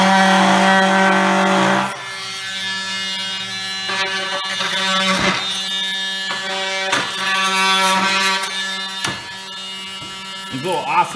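An oscillating multi-tool plunge-cutting into old-growth wood in a 1926 building, a loud buzzing whine that starts steady, then comes in repeated bursts that rise and fall as the blade bites.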